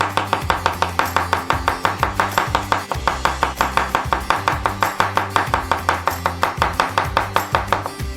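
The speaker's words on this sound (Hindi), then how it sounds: "लहसुन की 2 पत्तियां लेंगे। इसे कुचल देंगे" A knife chops garlic cloves on a board in a steady, fast series of loud, close thuds lasting several seconds, with no voices.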